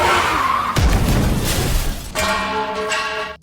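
A speeding car skids with screeching tires, then hits another car with a loud crunching crash, and engine roar and harsh scraping noise continue after the impact.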